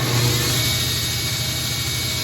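A belt grinder runs steadily while shaping the edge of an EVA foam LARP sword, giving a continuous whirring motor drone with a faint abrasive hiss and no pauses.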